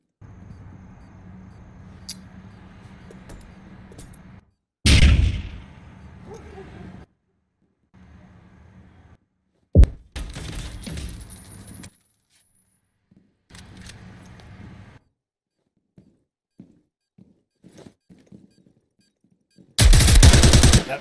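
Gunfire crackles through a Counter-Strike match in short, loud bursts separated by quiet gaps, with sharp single shots and clicks scattered between, and a final burst at the end.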